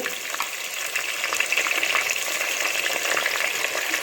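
Ginger garlic paste sputters and fries in oil for a mutton head gravy, a close, steady, bright sizzle with small crackles throughout and no voices.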